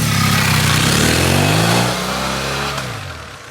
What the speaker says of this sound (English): What you need to know is that it has a pleasant engine note and that it can move its weight around quickly enough.